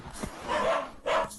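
Two short yapping barks from a cartoon dog, a quick pair with a pause between, fairly close and bright.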